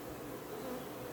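Honey bee swarm from a neighbour's hive buzzing in a dense, continuous hum, close and steady throughout the short moment with no other sounds.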